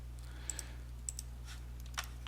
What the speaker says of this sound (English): I'm just going to start typing delete